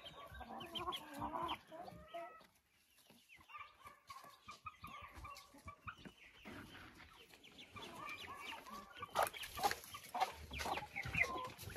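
Several chickens, including a silkie hen, cluck and murmur nearby, with scattered squawks and rustling building toward the end.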